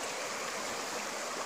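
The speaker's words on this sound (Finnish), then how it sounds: "Tämäkin koski muistakin 3 metriä puotosta." River rapids rushing over a drop of about three metres, a steady, dense roar of water close by with no voices.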